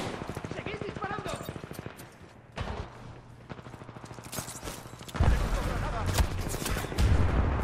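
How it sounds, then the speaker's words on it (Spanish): Titanfall 2 multiplayer gunfire, dense bursts of rapid shots and heavier blasts running throughout, growing louder and fuller in the final seconds, with a voice talking over the action. "¡Seguís disparando!"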